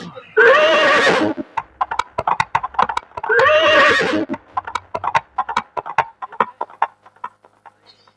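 Two loud horse whinnies with clip-clop hoofbeats between and after them, a staged sound effect in a Hindi nautanki folk theatre performance about a dacoit, the hooves trotting in a steady rhythm to the end.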